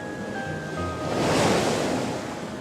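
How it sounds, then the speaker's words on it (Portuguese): Ocean surf surges in a broad, rushing swell that builds to a peak midway and eases off, a steady wash of water noise without speech, presented as a tsunami wave. "O mar sai da costa e aparece convertido numa enorme parede de água que pode ultrapassar os 30 metros de altura."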